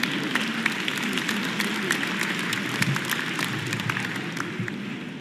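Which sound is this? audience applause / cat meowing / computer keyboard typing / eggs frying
audience applause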